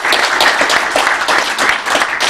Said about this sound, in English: I would just like to give him a wonderful round of applause for his hard work and effort, our Brother Lamont